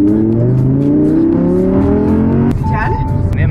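An Audi R8 launches using launch control, its engine note climbing steeply and loudly through the revs before a shift, then roaring on at high volume with a voice briefly heard over it.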